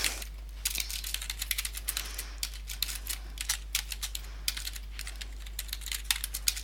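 Computer keyboard keys clatter in quick irregular bursts of clicks, close and fairly soft, with a short pause near the start and no talking over them.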